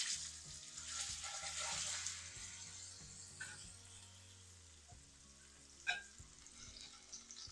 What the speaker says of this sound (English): Now we are ready to put the fish inside the pan.